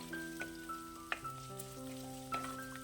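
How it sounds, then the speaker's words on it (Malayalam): Chopped garlic and ginger sautéing in a pan for prawn curry, with a faint, soft sizzle and an occasional light tap or stir, while a steady tonal hum runs underneath. "ഇനി ഇതൊന്ന് വഴറ്റിയെടുക്കണം"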